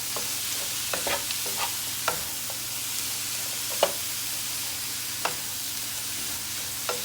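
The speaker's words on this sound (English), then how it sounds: "And I'm going to stir it." Spinach, tomato and apples sautéing in a pan give a steady sizzling hiss, with scattered sharp clicks and scrapes as a utensil stirs them, close up and with no one talking.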